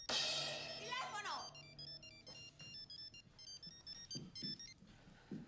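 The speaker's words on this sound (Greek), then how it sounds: "Τηλέφωνο!" A telephone rings with a repeating electronic melodic ringtone, steady and fairly close, while voices, including a child's, talk loudly over the opening and continue intermittently beneath it.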